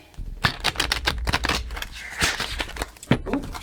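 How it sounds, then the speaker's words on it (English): Tarot cards being shuffled, a rapid series of crisp riffling snaps and flutters, close and fairly loud, with brief pauses between bursts. "Ooh, that was a bad shuffle."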